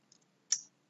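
A single sharp computer mouse click while selecting Run in Windows, close and clear against a quiet background with a faint tick just before it.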